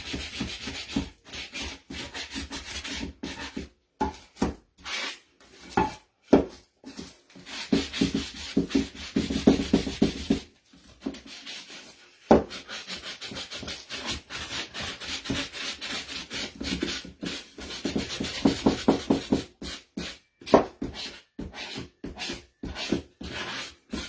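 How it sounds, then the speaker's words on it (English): Hand-sanding a wooden Christmas sign, repeated rough back-and-forth rubbing strokes in bursts with short pauses, close and fairly loud. "sand this part"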